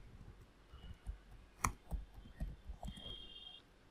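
A computer mouse clicks on a web page, a few soft, sparse clicks close by in a quiet room.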